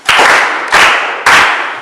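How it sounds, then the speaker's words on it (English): Three sharp bursts of hand clapping from an audience at a poetry discussion, each starting with a crisp crack and trailing off briefly, loud and close with short gaps between. "Exactly, clap hands for him."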